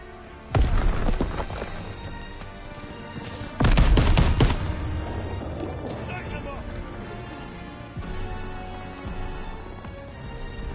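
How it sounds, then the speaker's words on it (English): A grenade blast and gunfire from the Call of Duty WWII campaign: a heavy boom, then a second loud explosive burst with rattling shots and rumbling debris, continuing under shouted voices. "Grenade out! Tossing out a grenade!"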